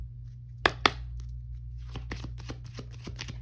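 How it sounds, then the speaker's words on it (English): Two sharp card snaps followed by a rapid flurry of riffling and clicking as a tarot deck is shuffled, close up over a low steady hum. "Let's go ahead and shuffle this deck or cut this deck."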